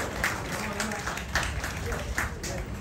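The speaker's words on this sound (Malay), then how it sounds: "Satu tepukan gemuruh untuk beliau." Applause from the crowd at a political unity rally in Guar Chempedak, a dense patter of clapping hands at moderate level with a voice faintly underneath.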